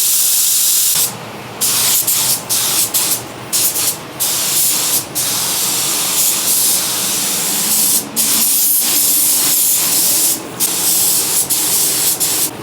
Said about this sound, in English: Last thing to do is just spray out the diffuser section on the rear bumper